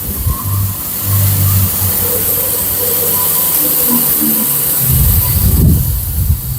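A motor-driven crusher machine (drobilka) used for livestock feed runs with a loud, steady mechanical drone and rumble that surges near the end. No one speaks.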